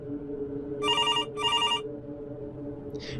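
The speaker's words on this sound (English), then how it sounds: "the kitchen phone began to ring." A kitchen telephone bell, set very loud, rings in two loud, sharp bursts over a low background hum, followed by a brief faint higher sound.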